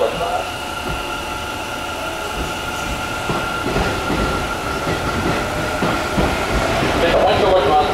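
Hanshin railway trains roll through Hanshin Amagasaki Station during the evening rush, with rhythmic wheel clatter, humming motors and a rising squeal, while a station announcement plays over the noise.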